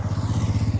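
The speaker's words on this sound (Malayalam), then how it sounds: "ബൈക്ക് പോണ നോക്കിയിരിക്കുക." A motorbike engine runs close by with a steady, pulsing low rumble across the whole short stretch, its throb loud and unbroken, at a hill-station roadside in Vagamon, Kerala.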